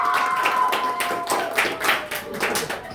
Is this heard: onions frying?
no